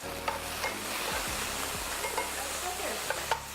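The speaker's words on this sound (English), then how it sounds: "Now we're going to add the sweet potatoes or the yams first, because they'll probably take the longest to cook." Sweet potatoes or yams with fresh garlic frying in a pan, a continuous close sizzle broken by scraping stirs and utensil taps, no voices.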